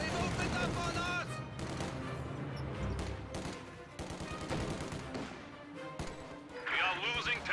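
Rapid MG42 machine gun bursts in a World War II strategy game, sharp repeated gunfire crackling over battle effects, music and a narrating voice throughout.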